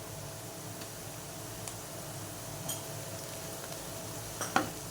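Soft, steady sizzling of garlic ginger paste frying in a pan with lightly browned onions, with occasional light clinks of a utensil stirring.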